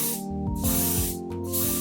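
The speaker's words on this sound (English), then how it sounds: "I'm about to get into this new spray." A steady hissing spray from a nearby aerosol bottle, pulsing in a few short bursts with no talking.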